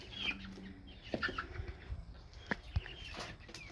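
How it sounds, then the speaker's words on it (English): A chicken clucks and rustles inside a backyard coop at night, giving soft scattered clucks and a few brief flaps or bumps, close and fairly quiet with no talk. "I finally got the dumbest freaking chicken in the whole world up in the coop"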